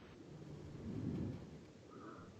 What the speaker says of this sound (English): Stormy weather in the subtitles.